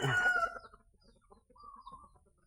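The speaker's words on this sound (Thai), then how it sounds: "ก็ไก่ ไก่รอกินข้าวลูกก็ไก่รอกินข้าวกัน" A chicken clucks loudly at first, then softer scattered clucks and a brief drawn-out call follow, close by outdoors at a temple in Chae Hom, Lampang, Thailand, as the chickens wait for morning feed.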